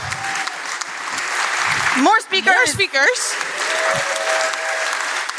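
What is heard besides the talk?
audience applause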